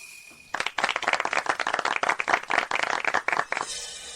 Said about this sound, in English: Let's give a warm round of applause as we welcome Ethan to say a few words.